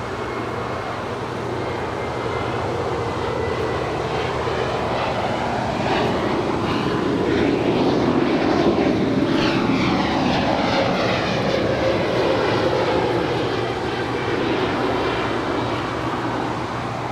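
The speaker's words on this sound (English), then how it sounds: "Got Spirit Airlines Flight 1200 now rolling down 25 right." A Spirit Airlines jet takes off on runway 25 right at Los Angeles LAX, its engines swelling into a loud, close roar and then easing off as it passes, with no voices.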